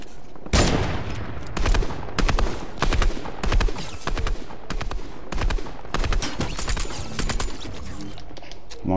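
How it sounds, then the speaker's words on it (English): A minigun fires in a video game in repeated bursts of rapid gunfire, several loud volleys separated by short gaps, close and sharp with no talk over them. "He has a minigun."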